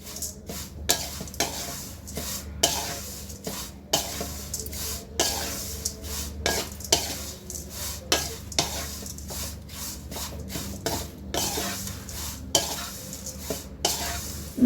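Flattened rice (avalakki) is dry-roasted in a pan with continuous stirring, producing a steady scraping, rustling sizzle with rhythmic spatula strokes throughout and no talking.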